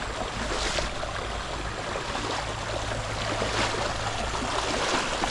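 A river flows nearby as a steady broadband rush of moving water, a constant close wash with a low rumble underneath, with no talking.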